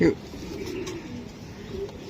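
A young racing pigeon gives a soft, low coo close by, heard briefly beneath a voice.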